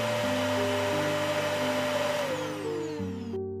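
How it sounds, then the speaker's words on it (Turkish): Vacuum cleaner running steadily, a loud continuous drone with a whining motor pitch that shifts downward near the end before cutting off abruptly. "Elektrikli süpürgeyi çalıştırınca bebekler neden aniden sakinleşir?"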